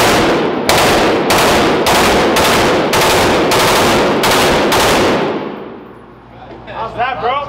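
A Tommy gun fired for real at a shooting range: eight loud, rapid bursts in close succession, each with a sharp crack and ringing tail. The gunfire then fades and a voice speaks briefly at the end.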